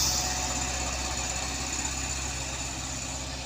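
A truck engine pulls hard up a steep hill as a steady, loud low rumble with a knocking vibration, continuous and close throughout.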